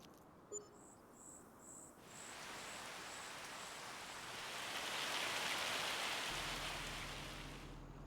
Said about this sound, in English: I heard the rain.